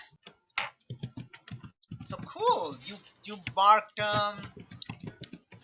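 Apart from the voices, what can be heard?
fast typing on computer keyboard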